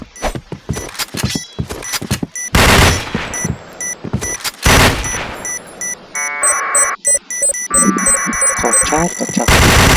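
Rapid bursts of automatic KRISS gunfire in a video game, sharp and loud, mixed with beeping game alerts and electronic tones.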